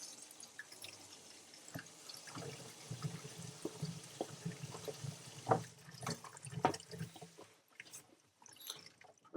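Water runs, drips and trickles through household plumbing after the main shut-off valve is turned back on beside a newly replaced push-fit shut-off valve, faint and close, in irregular splashes and drips with no talk.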